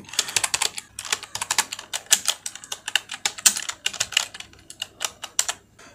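Fingers type quickly on a computer keyboard into a search box, a dense run of crisp key clicks with short pauses, close and clear with no talk.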